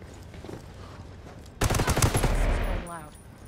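A full-auto M9 burst in the video game Ghost War erupts suddenly, loud and close, rattling rapidly for about a second before cutting off into quieter ambient noise, with a brief voice line nearby.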